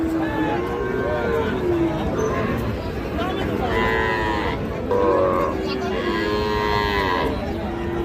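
Several cattle, including young Sahiwal heifer calves, moo repeatedly at a cattle market, some long and drawn out, over a constant background of crowd chatter and nearby voices.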